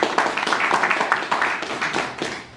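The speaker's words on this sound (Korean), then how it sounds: "일단 박수 한번 주시죠." An audience at a Buddhist monk's talk claps briefly, a dense steady patter of many hands lasting a couple of seconds and fading at the end.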